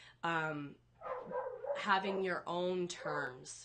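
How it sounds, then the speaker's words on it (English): Dogs bark and yip from upstairs in a home, with several high, whiny barks mixed in with a person speaking close by. "If you guys can hear the dogs barking, sorry, they're upstairs."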